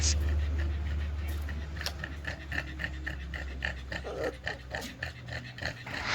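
Dogs lounging on a rooftop pant close up, a quick steady rhythm of short breathy huffs that runs throughout.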